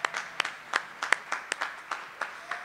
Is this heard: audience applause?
yes